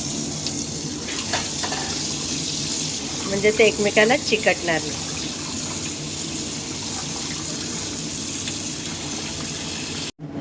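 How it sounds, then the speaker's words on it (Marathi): Water runs and pours steadily over boiled noodles in a strainer, close by, with a brief stretch of speech over the flow before it cuts off at the end. "आता हे याच्यामध्ये असं ओतून घ्यायचं आणि थोडंसं आपण याच्यात पाणी सोडूया"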